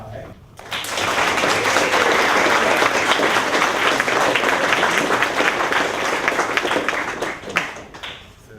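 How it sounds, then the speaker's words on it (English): A seated audience at a talk on becoming a professional production artist breaks into warm, sustained applause, dense clapping that rises quickly and holds steady before tapering off. "this is to do a warm round of applause for Hai"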